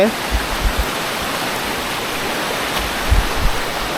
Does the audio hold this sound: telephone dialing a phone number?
no